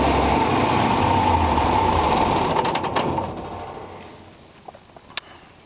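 An Oliver 1800 tractor engine, warmed up and running near 900 RPM, gives a steady, loud, buzzing drone that eases off after about three seconds and fades, leaving a few faint clicks.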